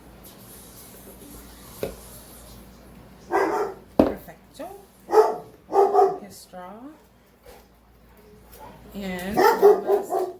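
A dog barks in a home kitchen, several loud, close barks in irregular bursts with short whines between, while people talk and move about nearby.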